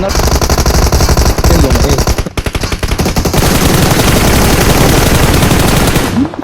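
Gunfire in the mobile battle game PUBG Mobile, with loud, rapid automatic bursts in close succession, a brief rhythmic stutter of shots midway and sustained heavy firing to the end, with no speech heard.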